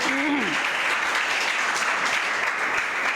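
Children clapping together at a Jain religious gathering in Dhar: dense, steady applause filling the whole stretch, fairly loud and close, with a brief voice at the start.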